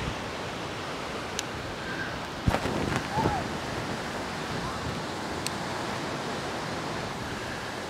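Strong wind blows across a Great Lakes shore with steady, broad roaring noise buffeting the microphone, alongside surf-like wash, with a couple of brief faint sounds near the middle.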